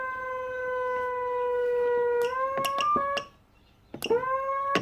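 A loud Whelen 295SSA1 electronic siren imitating an old air raid siren wails with a steady, slowly rising tone, then cuts off with brief clicks, pauses, and starts winding up again.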